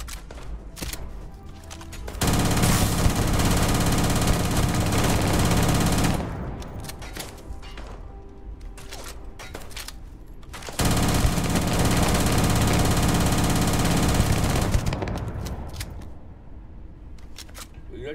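Gunfire in the space game Starfield Command comes as two long, sustained bursts of rapid automatic fire, each lasting several seconds. Quieter clicks and game noise fill the gaps, and a voice talks at times.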